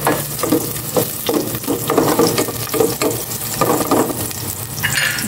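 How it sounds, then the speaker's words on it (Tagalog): Garlic frying in a thin casserole pan, a steady broad sizzle with scraping stir strokes, close and loud throughout, no talking. "Lagay ko na tong bawang. Isa ko na yan, oh. Nusok-usok agad. Dahil manipis itong aking kaserola."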